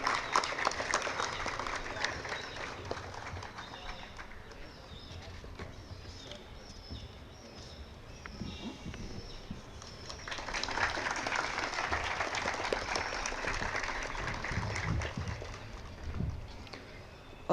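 Applause for award winners at a university architecture convocation, faint and distant at first, then swelling into a fuller, steady round of clapping from a large audience before fading near the end.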